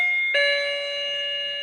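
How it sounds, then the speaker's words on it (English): A CRT video intercom's doorbell sounds when the outside button is pressed: a sustained electronic chime tone that sharpens after a brief onset, then rings steadily and loudly on its own. "your outside visitor just pushes the button and it rings the doorbell"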